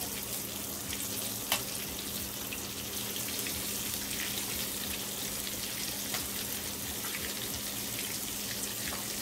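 Food fries in a frying pan with a steady, soft sizzle and scattered crackles and pops throughout, faint and continuous with no talking.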